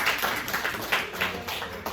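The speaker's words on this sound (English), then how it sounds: "Give yourselves a round of applause." An audience claps together in a steady, dense wash of applause at a live community event, fairly close and filling the whole moment with no voices on top.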